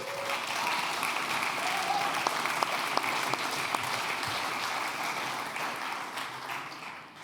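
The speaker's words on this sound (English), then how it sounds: "Applause, please." Conference audience applauding steadily throughout, a dense patter of many hands with a few sharper individual claps, moderately distant and fairly soft.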